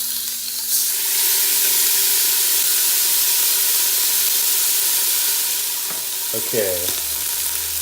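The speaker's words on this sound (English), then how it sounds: "in a couple batches, we are gonna brown our meat" Beef browning in batches in a hot pan, a loud continuous sizzle and hiss throughout, with a brief spoken word and a short tonal clatter near the end.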